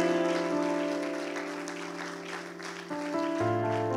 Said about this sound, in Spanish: Den un aplauso al Rey de Reyes